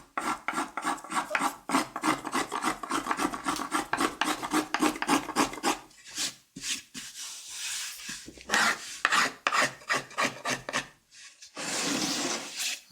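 Hand tool rasping and scraping across a wooden guitar top soundboard being carved, with steady rhythmic strokes that pause and resume, close and fairly loud, no talk.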